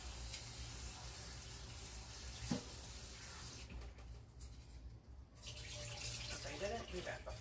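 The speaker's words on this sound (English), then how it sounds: "I do want to real quickly rinse off my squash here." Squash rinsed under a running kitchen tap, a steady broadband rush of water lasting the whole stretch, briefly thinning midway, with a person talking softly under the flow.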